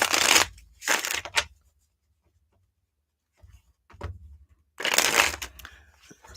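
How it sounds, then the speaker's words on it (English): Tarot cards are shuffled by hand in a few quick, crisp riffling bursts, close up, separated by a near-silent pause and some soft handling taps. "Let me shuffle these up."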